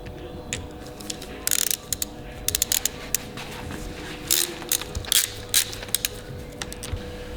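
Allen key bolts on a 2024 Sur Ron Ultra Bee Black Edition electric bike are tightened with rapid metallic ratchet clicks in short bursts over a steady low hum, close by with no talking.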